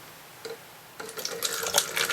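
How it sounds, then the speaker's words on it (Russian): Water poured from a container into the base of an orchid pot, starting with a faint trickle and then swelling into a steady splashing stream that grows louder and gurgles as the pot fills, close by and without talk. "И на дно мы нальем воды."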